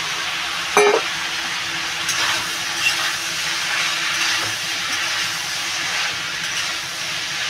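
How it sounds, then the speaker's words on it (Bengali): Ash gourd poured into a hot pan with prawns gives a steady, even hiss and sizzle, with a short clatter near the start and faint scrapes later. "বন্ধুরা আমি এবার এই যে চাল কুমড়োটা এটা ঢেলে দেবো"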